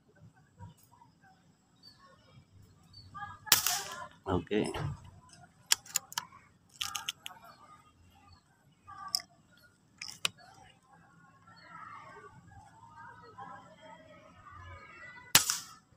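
Crown MK2 air rifle fired outdoors at a 30-metre target, a few sharp isolated cracks spread across the stretch, with someone speaking between shots and faint background noise.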